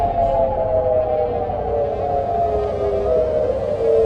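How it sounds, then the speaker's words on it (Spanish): An air raid siren sounds at Incirlik air base in Adana, Turkey, a loud continuous wail that slowly falls in pitch over a few seconds and drowns out everything else. "sonaron las sirenas de ataque aéreo en la base aérea de Incirlik en Adana"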